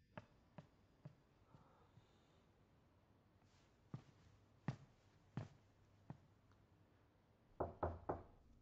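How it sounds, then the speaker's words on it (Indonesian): Knocking on a door indoors, scattered sharp knocks spread across the stretch, ending in a quick cluster of three firmer raps, fairly faint in a quiet room. "Udah jangan ketok pintu lagi."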